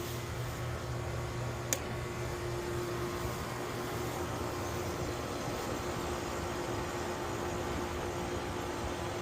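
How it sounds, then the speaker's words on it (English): An air-conditioning unit runs with the compressor on while the condenser fan motor only hums and does not spin after a new capacitor is fitted, giving a steady broadband drone with a low tonal hum and a single brief click. "Compressor on, but the fan not running. Fan just humming on me."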